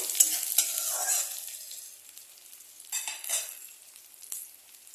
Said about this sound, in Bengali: আমি পেঁয়াজের সঙ্গে আলুটা দিয়ে একটুখানি এটাকে একটু হালকা হালকা ভাজা করে নেব